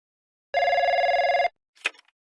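Phone ringing in the game Trickcal Revive: a single electronic ring burst lasting about a second, followed by a short chirpy tone after a pause, loud and clean against silence.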